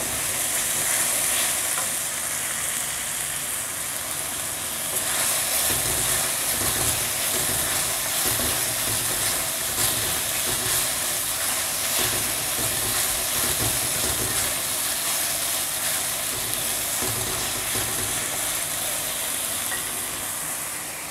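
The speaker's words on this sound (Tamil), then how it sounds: "இங்கே வச்சுருக்க புதினாவை போட்டு கொஞ்சம் நேரம் வதக்கிக்கலாம்" Mint leaves sauté with onion and ginger-garlic paste in a pan for palak biryani, a continuous loud hissing sizzle with occasional stirring scrapes, close up and uninterrupted by talk.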